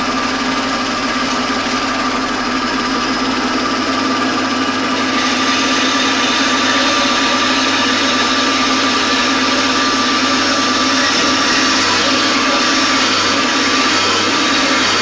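A Wessex Blades 2x72 belt grinder motor runs steadily at close range, a loud continuous whine with a constant hum beneath it and no talking.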